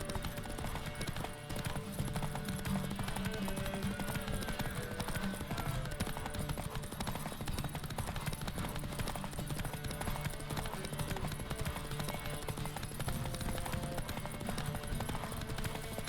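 Roach, the horse in The Witcher 3, gallops with a fast, steady drumming of hooves under game music, continuous and fairly close throughout.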